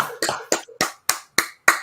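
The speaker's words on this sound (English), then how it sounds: "We're here to clap." A single person claps hands in a close, loud, steady series of seven sharp claps with brief gaps between them, and no talking.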